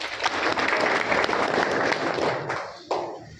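An audience gives a hearty burst of applause at a public address, dense close clapping throughout that begins to thin toward the end.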